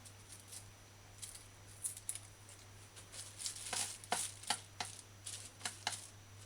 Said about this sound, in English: And crush the garlic.